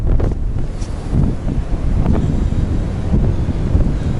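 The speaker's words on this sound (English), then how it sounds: "Right, so windy, I'm gonna shut the camera for a moment." Heavy wind pounds the microphone with a constant low rumble and buffeting gusts, loud and close, with no voices.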